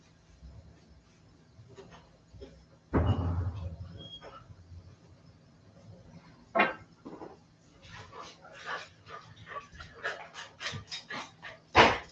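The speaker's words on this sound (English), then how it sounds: "the dogs have come out of timeout, so here's hoping they're not going to bark anymore" Indoor dogs pant and whimper near the microphone, with soft breathy panting, a few whines and short yips in irregular bursts. A louder rustle comes in partway through.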